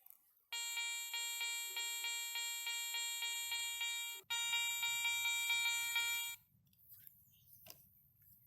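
Garrett 400i metal detector sounding a strong signal over an old wedding ring dated 1913 at about 10 cm, giving a loud, steady pulsing electronic tone in two long bursts, then quiet ground noise.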